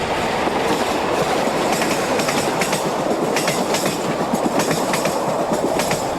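A Portuguese Railways class 1800 diesel locomotive, number 1804, hauls an intercity train round a curve past the Barreiro freight yard, giving a steady, loud, close rumble with continuous rhythmic clickety-clack of wheels on rail joints.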